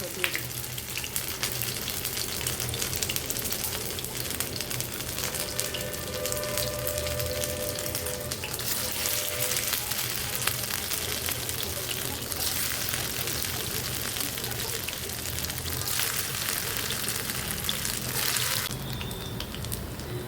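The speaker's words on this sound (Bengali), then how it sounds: "এখন আমি এই যে এরকম করে একটু একটু শেপ করে" Hand-shaped pieces of homemade cake dough frying in hot oil, an even, continuous bubbling sizzle held at a steady level, with a faint change in tone near the end.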